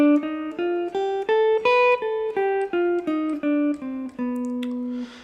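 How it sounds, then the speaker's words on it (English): A guitar runs through the B altered scale over a blues progression, about a dozen clean single notes stepping up and then back down in a steady rhythm, with the last note left ringing. "So that scale sounds like this."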